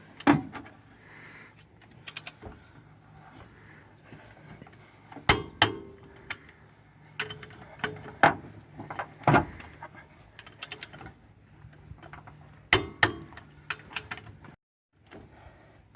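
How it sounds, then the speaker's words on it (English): A car jack being cranked down on a 2016 Nissan Versa during rear wheel bearing work, heard as irregular metallic clicks, clanks and ratcheting knocks spaced out against quiet surroundings, with a short silent gap near the end. "would you untwist that jack and let the vehicle down?"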